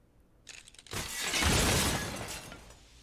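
A glass tabletop cut in half in a film scene gives way with a rising, sustained crash of shattering glass. A brief crackle comes first, then a loud, dense spray that slowly fades, with no speech.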